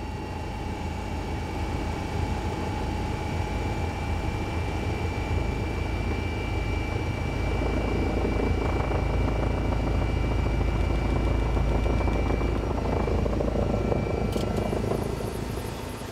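Rescue helicopter Christoph 16 flies over the Saarland, its rotor and turbine giving a loud, continuous thudding drone with a steady whine throughout, heard from inside or close by.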